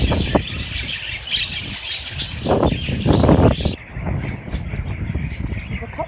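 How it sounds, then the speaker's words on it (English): Parakeets in a park chirp and squawk in short bursts, several calls overlapping at moderate distance, with people talking nearby throughout. "There's a lot more parakeets flying around than there is hens up in here."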